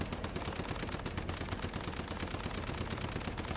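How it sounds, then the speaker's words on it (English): Rapid gunfire in the video game Warhammer 40K Rogue Trader, a dense, steady stream of close, loud shots with no pause. "I can just stand here, go toe to toe, keep on shooting"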